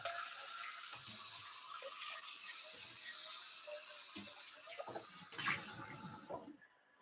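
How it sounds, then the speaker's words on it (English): A kitchen tap runs steadily while a pot is rinsed out during home cooking of black beans, the flow broken by clunks and splashes of the pot before cutting off at the end. "I'm going to rinse this out real quick."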